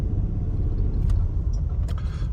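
Light road traffic on a city street: a steady, low engine and road rumble from passing cars, continuous and moderately loud, with faint higher swishes and no talking.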